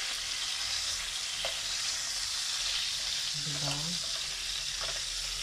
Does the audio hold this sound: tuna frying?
yes